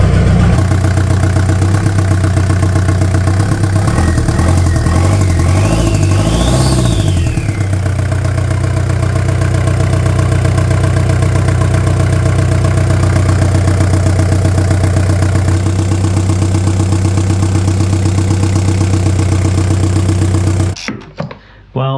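A Jeep XJ engine with an air leak in the fuel system idles loudly and close, a steady rumbling clatter with a rising whine partway through, until it cuts off abruptly at the end.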